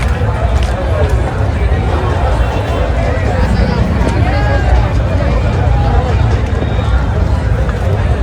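A dense crowd at the Ekvira Aai palkhi procession makes a loud, constant roar of overlapping voices and movement that continues unbroken throughout.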